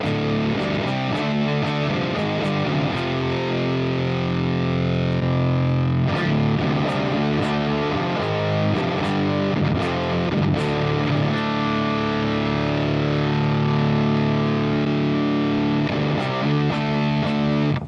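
Heavily distorted electric guitar chords through Line 6 Helix Native with a cabinet impulse from ML Sound Lab ring out thick and loud, with picked notes and sustained crunchy tone throughout.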